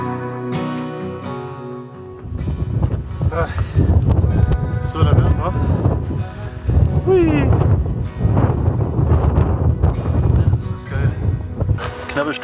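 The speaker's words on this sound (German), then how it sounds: "weht ein ganz schöner Wind" Strong wind buffets the microphone on a Scottish hilltop, a loud continuous rumbling roar that starts abruptly after a quieter opening with a steady tone and keeps gusting throughout.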